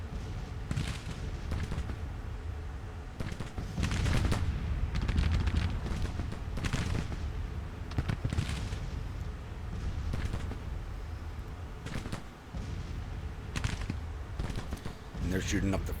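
Gunfire from skirmishers in the Civil War strategy game Grand Tactician, a steady rolling crackle of distant musket volleys with heavier booming bursts, continuous across the whole stretch.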